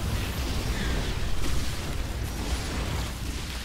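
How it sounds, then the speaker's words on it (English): Dense, continuous rumbling blasts and crackling bursts in StarCraft II, like a rapid series of explosions blending into one loud roar. "Whoa, explosions in your face."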